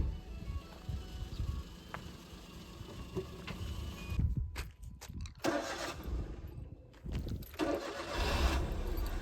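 A car engine is started during a driving lesson in Himachal Pradesh: a steady close rumble broken by sharp cranking bursts midway, then settling back into an even running drone, with no talk.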